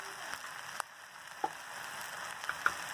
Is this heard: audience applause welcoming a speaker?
no